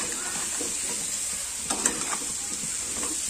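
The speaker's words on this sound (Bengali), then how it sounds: "ভালো করে একটু ভেজে নেব।" Steady close sizzling of pumpkin frying in a pan, a constant hiss with a few soft stirring scrapes near the middle, no voices.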